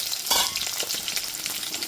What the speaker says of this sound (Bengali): ঢাকা চাপা দিয়ে সমস্ত মাছগুলোকে ভেজে নেব